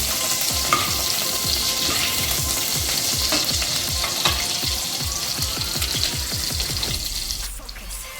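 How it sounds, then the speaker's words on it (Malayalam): Masala with cloves and cardamom sautés in hot ghee in a pan for Kerala-style paneer masala: a loud, steady sizzle with rhythmic scraping strokes of the spoon that fade near the end. "ഗ്രാമ്പു ഏലക്ക ആ തക്കോല ഇല്ല മസാല ഒന്ന് വഴറ്റിയെടുക്കുക"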